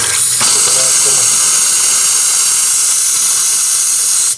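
Air blowing hard out of an outdoor water line being winterized, a loud steady hiss that starts abruptly and holds without break before cutting off.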